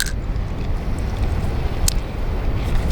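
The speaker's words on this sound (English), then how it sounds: "Now it's very windy today, I know, we're on the coast." Steady, blustery coastal wind at Kirkcaldy roaring and buffeting the microphone outdoors, a constant low rumble with no voices.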